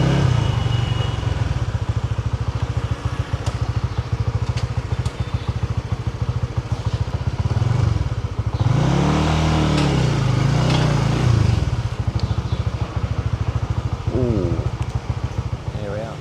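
A motorbike engine drones steadily while riding along a road in Vietnam, with buffeting wind noise throughout, a surge of revving midway, and someone talking over it.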